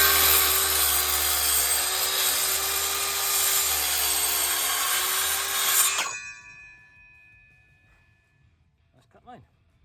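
A hand saw cutting through timber, a loud continuous rasping that stops abruptly partway, followed by quiet with a faint knock near the end.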